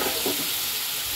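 Ground spice paste frying in hot oil for a fish curry with cauliflower and potato gives a steady, close sizzling hiss throughout.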